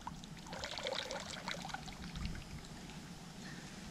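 Excess water blown out of a drinking device used in a river in the Everglades, heard as a close, steady gurgling trickle and dribble lasting several seconds.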